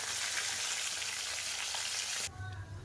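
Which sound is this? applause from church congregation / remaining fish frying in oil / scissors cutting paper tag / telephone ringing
remaining fish frying in oil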